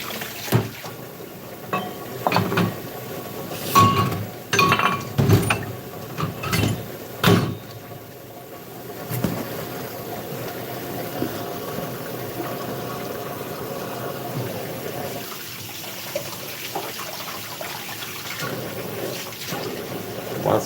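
Water runs steadily while a sponge scrubs down a freshly received package, with clattering knocks and handling bumps early on, then a softer continuous wash and rinse toward the end.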